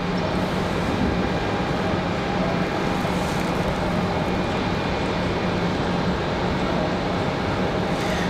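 An Air Canada airliner departing Raleigh Durham International Airport in snowy weather, a steady broad roar of jet engines heard from a distance, holding constant loudness throughout with no talk.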